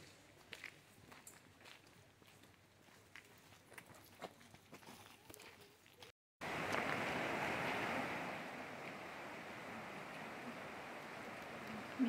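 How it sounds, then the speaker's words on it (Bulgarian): A river rushes beside a forest eco-trail in the Rhodope Mountains. Faint footsteps come first, then a loud, steady roar of flowing water fills the rest of the clip. "Минаваме покрай река."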